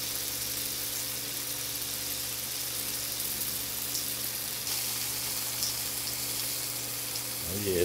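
Veal breast searing in a hot pan, giving a steady, even sizzle and hiss throughout with a constant low hum beneath, close and unbroken.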